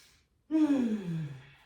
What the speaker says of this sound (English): Big breath in and out